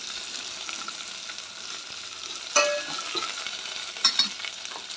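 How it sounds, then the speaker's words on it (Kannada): Dry red chillies, curry leaves and onion tempering together in hot oil for a festive holige saaru, giving a steady low sizzle with a couple of sharper crackling pops and a brief stirring scrape. "ಹಾಗೆ ಒಣಮೆಣಸಿನ್ಕಾಯಿ, ಕರಿಬೇವು ಮತ್ತು ಈರುಳ್ಳಿ ನಾನು ಒಟ್ಟಿಗೆ ಹಾಕಿಬಿಡ್ತೀನಿ. ಯಾಕೆಂದರೆ ಕರಿಬೇವು ತುಂಬ ಸಿಡಿಯುತ್ತೆ."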